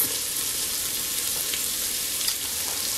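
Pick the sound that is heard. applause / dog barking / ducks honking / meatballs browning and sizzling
meatballs browning and sizzling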